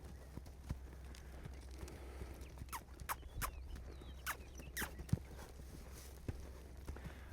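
A horse lopes at an easy, unenergetic pace, its hoofbeats landing as soft, evenly spaced thuds with a few sharper strikes, fairly faint against a low background hum.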